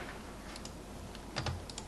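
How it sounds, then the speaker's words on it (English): Fingers tap on a regular computer keyboard at a desk, a short run of quick, light keystrokes close by, bunching into a faster flurry near the end. "And then you can type with your regular keyboard."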